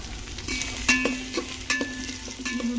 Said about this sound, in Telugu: ఈ ఉల్లిపాయ ముక్కలు బాగా ఎర్రగా వేగేంత వరకు వేయించుకోవాలి.